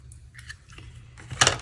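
Scissors snipping a small piece of navy glittered ribbon at an angle, faint handling rustles followed by a single sharp metallic snip near the end, close and quiet.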